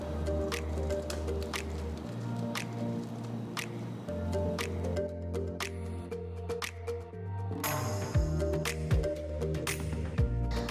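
Cooked rice being strained, with wet squishing and dripping as water drains through, set over a steady low kitchen hum and layered with scattered clicks and small clatters.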